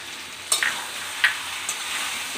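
Curry of potato, paneer and chickpeas frying in a pan after crushed kasuri methi goes in, a steady broad sizzle with a few sharp stirring scrapes near the start and middle.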